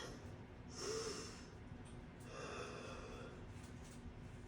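A person breathes audibly while holding a spinal-twist stretch during an upper-body workout, with two or three slow, close breaths and a soft snort-like inhale, heard alone without talk.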